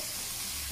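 Tomato pieces frying in a pan for a vegetable dish, a steady soft sizzle with a brief clink near the end.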